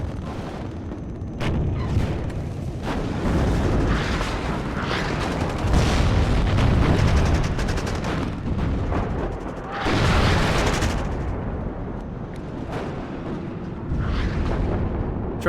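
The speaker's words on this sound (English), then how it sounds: "Tank gets another siege shot here." Tank cannons fire and shells explode during a WARNO multiplayer match, heavy booms and blasts recurring every few seconds over a dense rumbling backdrop of battle noise, with no voices.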